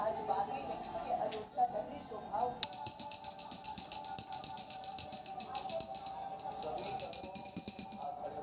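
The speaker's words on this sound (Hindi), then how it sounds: "बजा रही है घंटी" A small hand bell rings continuously and brightly during a Hindu aarti, over a murmur of voices and background chatter.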